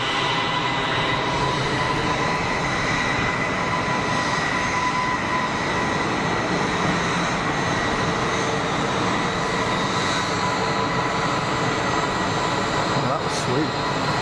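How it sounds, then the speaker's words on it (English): An EasyJet airliner on very short final at Geneva Airport passes over as a loud, constant engine roar with steady tonal whine, filling the whole stretch without letup. "Got an EasyJet on a super short final."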